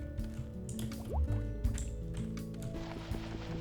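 Wet dripping and squishing splashes as water blocks are placed in Minecraft, a few quiet liquid plops and gurgles spaced over soft background game sounds.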